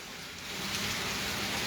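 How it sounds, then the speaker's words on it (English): Steady rain falls at night, a soft, even hiss of drops on surfaces throughout the short stretch, fairly quiet and with no voices over it. "it's a rainy night, ladies and gentlemen"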